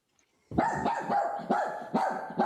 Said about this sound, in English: Oh, the dog, that bark goes right through me.